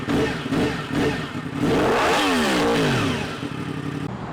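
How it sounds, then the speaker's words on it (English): A motorcycle engine idles roughly up close, then revs up and back down in one long swell before settling again, loud and alone, with no speech. "Finally got the bike up and running."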